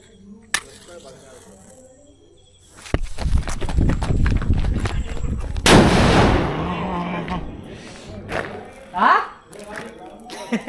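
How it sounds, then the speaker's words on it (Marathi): Diwali firecrackers go off at night: sharp loud bangs at about 3 and 6 seconds with crackling bursts and rumbling tails between them, set among scattered pops, with people talking and exclaiming around them. "तर चला आता फटाके वाजवतो."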